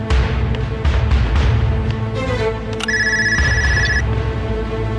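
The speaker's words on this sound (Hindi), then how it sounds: "किसका टेलीफोन है ये?" A telephone bell rings loudly near the end, a bright electronic trill lasting about a second after some indistinct background noise and movement.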